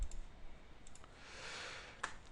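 A computer mouse clicking a few times, small faint clicks spaced apart over quiet room tone with a soft hiss, close and sparse with no talk.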